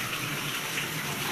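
Water flushing during a move-in inspection: a steady, close, broadband rush of running water with no pauses or voices over it.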